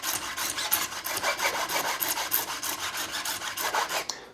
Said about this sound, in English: I'm going to rebuild that crown at the edges by using the crowning file